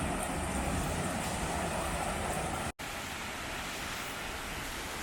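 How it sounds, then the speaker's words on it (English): A waterfall with several small cascades in Wales roars as a steady, dense rush of falling water, with one momentary dropout partway through. "You've got like 3 or 4 little cascades there and then the big waterfall up behind it."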